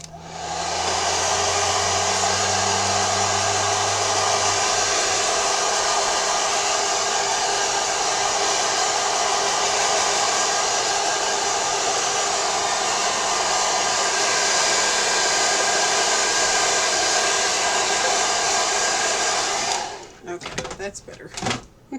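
A hair dryer blows steadily at close range for about twenty seconds, drying a DIY mixed-media collage paint brush holder, then cuts off, followed by brief handling clatter.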